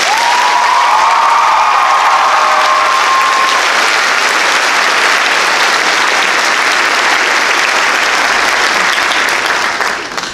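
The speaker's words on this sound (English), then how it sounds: "Let's give her another round of applause." Sustained audience applause fills a benefit concert hall after a nervous singer's performance, loud and dense for about ten seconds with a few cheers and whistles early on before tapering at the end.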